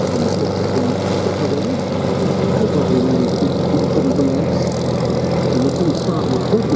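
Spartan Executive light aircraft flying in formation at an air show at Duxford, a steady loud propeller engine drone that holds constant throughout, with faint voices mixed underneath.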